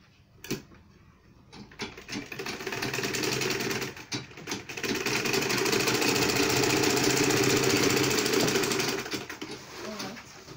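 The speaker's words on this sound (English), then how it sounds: "So you sew this one like this." A sewing machine stitches a double-compartment purse bag in two sustained runs of fast, close mechanical whirring, stopping briefly between them, with handling clicks at the start and end.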